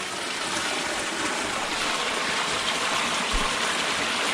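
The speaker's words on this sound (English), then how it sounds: "So you can see the water flowing through." Water rushing steadily through a displaced railway culvert, a continuous close broadband flow with no breaks.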